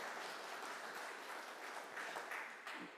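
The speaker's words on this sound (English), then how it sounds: "You may now applaud." An audience applauding, a dense, even wash of many hands clapping continuously at moderate volume.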